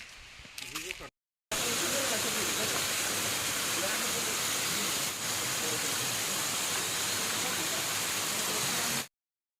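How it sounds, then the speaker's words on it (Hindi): Kailash cave waterfall in Jashpur drops from a great height among trees and rocks, a loud, steady roaring rush that runs unbroken for several seconds after a brief opening snatch of other sound. "ये है कैलाश गुफा का झरना और आप देखें ये बहुत ऊंचाई से गिरता है"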